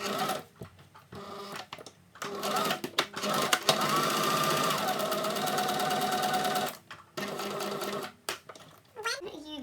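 A sewing machine stitches a plastic pouch in bursts of rapid mechanical chatter, stopping and restarting several times, with someone talking over and between the runs.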